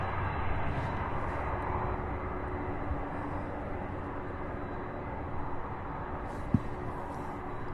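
Aircraft rolling on the runway at Louisville International Airport, a steady, broad jet roar heard from a distance that holds evenly throughout, with one brief knock near the end.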